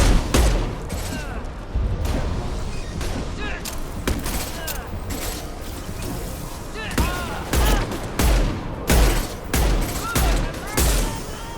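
Rockets and gunfire in the video game Mass Effect 2 come as repeated loud, sharp blasts and bursts over a dense, continuous din of combat, with booming impacts clustering toward the end and a voice occasionally underneath.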